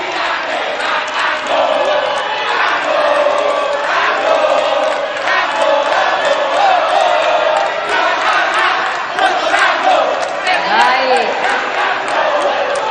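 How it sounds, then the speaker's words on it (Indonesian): An audience in a convention hall at a regional election debate roars with cheering, whoops and shouting crowd noise. The sound stays loud and continuous throughout, with a voice over the top. "Semua hadirin yang hadir di sini di Marina Convention Center, boleh tepuk tangannya"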